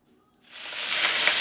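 After a quiet moment, a loud sizzle erupts and holds steady, chicken hitting hot oil on a flat top, close by.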